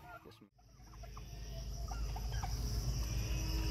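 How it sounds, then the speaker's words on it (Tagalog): Backyard turkeys being fed, with a few short bird calls over a steady low rumble, close by and fairly loud after a brief drop near the start. "Backyard farming ng pabo."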